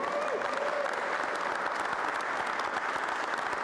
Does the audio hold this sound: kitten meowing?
no